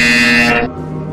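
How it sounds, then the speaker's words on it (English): A loud electronic buzzer in the video game Portal Stories: VR sounds as one harsh, sustained tone that cuts off after about half a second, leaving a low hum. "When you hear the buzzer, engage your atrophied neck muscles and look up at the ceiling"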